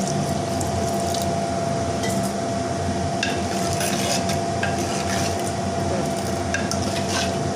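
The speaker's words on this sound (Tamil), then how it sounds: "இது ரொம்ப கெட்டியாக இருக்குது நம்ம கொஞ்சம் தண்ணி விட்டுக்கலாம்" Steady pouring of water into a simmering, bubbling pot of papaya sambar, a continuous wash of liquid noise with faint clinks, no voices.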